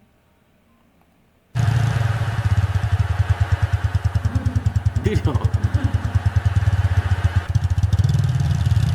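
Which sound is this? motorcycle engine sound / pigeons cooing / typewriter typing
motorcycle engine sound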